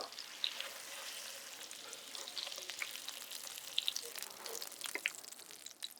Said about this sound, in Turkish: Her iki tarafını da 5 dakika tavada kızartın.